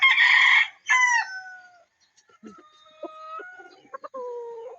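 Roosters from a crossbred gamefowl flock crow close by, one long loud crow followed by a second, then softer clucks and calls trailing off, with no talking.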